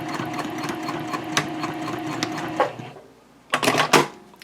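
Sewing machine back stitching on a messenger handbag, a rapid mechanical rattle running in short bursts with a brief pause before a final loud spurt, no talk.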